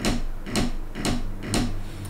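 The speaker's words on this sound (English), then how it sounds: "closed drag sounds like this" Closed drag on a snare drum: four buzzy pressed-stroke bursts about half a second apart, each a short dense rattle, close and fairly loud with no talk.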